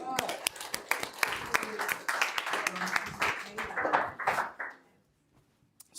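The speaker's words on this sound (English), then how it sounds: "So round of applause." Audience applause at a technical talk breaks out in a dense burst of clapping, loud and sustained for about four seconds, then quickly dies away into near silence with a stray clap at the end.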